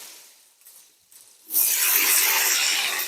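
Onions dropped into hot oil while cooking chicken curry: a sudden loud, bright sizzle erupts halfway through and keeps crackling steadily after a quieter start.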